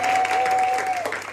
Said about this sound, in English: can you please give a big round of applause to the people who are volunteering?